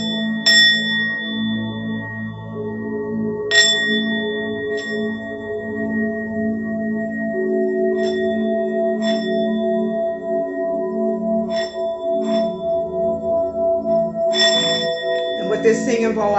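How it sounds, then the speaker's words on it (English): A small hand bell is struck several times before a spiritual divination session, its clear ringing tones with long sustained overtones sounding at irregular intervals over a steady background hum. "I want to just ring my bell because this divination is a little bit more intense."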